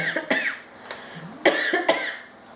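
A woman coughs repeatedly after eating spicy candy: several sharp, close coughs in quick succession, each with a raspy, breathy tail.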